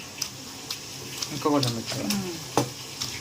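A wooden dal masher works through cooked raw mango, giving soft squelching, tapping strikes at irregular intervals, close up, while a person talks over it.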